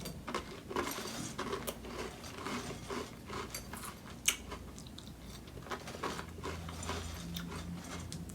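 Dry Cap'n Crunch treasure-chest cereal pieces are chewed close to the mic, giving faint, irregular crunching clicks and grinding in a quiet room with no talking.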